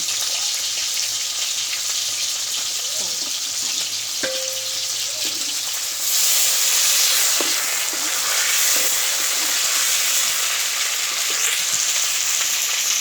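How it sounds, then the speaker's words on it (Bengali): Chopped onion, two bay leaves and a few pieces of cinnamon sizzling in hot oil for chicken biryani, a steady hiss that swells louder midway, with faint stirring clinks, no voices. "এই তেলের মধ্যে আমি দিয়ে দেব পেঁয়াজ কুচি, দিয়ে দেব 2টে তেজপাতা, দিয়ে দেব কয়েক টুকরা দারচিনি।"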